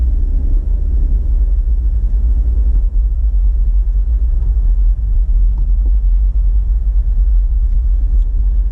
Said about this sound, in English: there's tons of traffic in the left lane